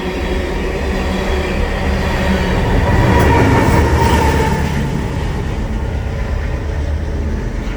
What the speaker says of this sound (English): Ethanol train go by.